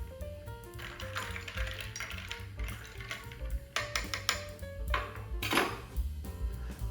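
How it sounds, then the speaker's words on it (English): A spoon clinks and scrapes against a glass as a carbonated margarita made with Owen's mixers is stirred, in bright irregular bursts over a low steady background hum. "But let's give it a stir."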